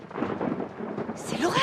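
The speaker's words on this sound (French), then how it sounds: "C'est l'orage!" A thunderstorm with a loud, rumbling roll of thunder over rain, a voice calling out briefly near the end.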